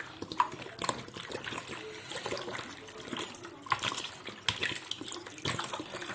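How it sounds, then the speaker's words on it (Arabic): A liter of water pours into a bowl while chicken is being prepared, with a close, uneven splashing trickle that rises and falls, accompanied by light clinks and handling noises. "انا هجيب احط في البوله لتر ميه"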